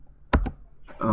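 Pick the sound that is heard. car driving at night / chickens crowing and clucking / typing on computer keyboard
typing on computer keyboard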